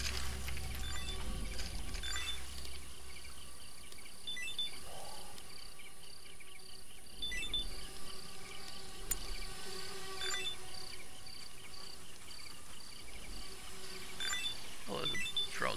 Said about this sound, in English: Sound like bees flying around.